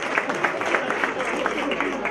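Audience applause at an award ceremony for forestry winners on a podium, a steady wash of many hands clapping, dense and continuous at moderate loudness with a voice faintly mixed in.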